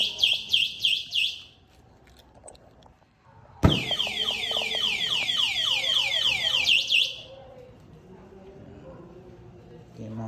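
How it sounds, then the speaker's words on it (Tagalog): Alarm of a red Vespa-style electric motorcycle, a loud repeating electronic chirping siren that sounds in two bursts with a short gap between, with talk faint underneath. "May alarm na rin tong kasama."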